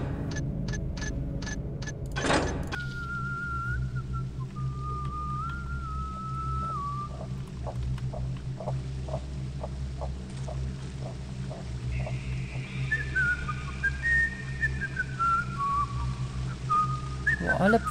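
In the video game Thief: The Black Parade, a faint melodic whistle glides through short pitch steps and later a second rising-and-falling run, over a low ambient drone with a sharp thump and soft ticking taps.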